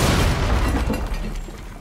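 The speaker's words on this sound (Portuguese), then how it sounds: "Não entra, joguei granada" Grenade blast in Rainbow Six Siege, a loud sustained rumbling boom filling the whole clip with dense low-end roar and crackle, no speech over it.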